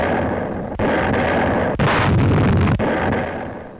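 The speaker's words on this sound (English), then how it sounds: "The naval guns worked overtime." World War II naval guns firing during a beach invasion bombardment, a few heavy booming blasts a second apart over a constant loud roar, with no voices.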